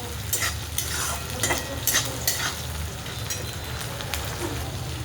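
Green peas sizzle in hot oil in a home kitchen pan while chapati chivda is being made, a soft, continuous crackle with a few sharper stirring scrapes and clinks near the start.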